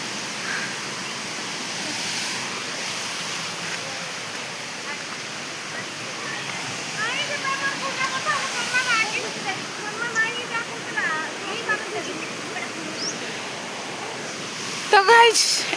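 Small waterfall at Asurkhol with only a little water falling, a steady wash of splashing water running throughout with some fluctuation, and light background sounds toward the end.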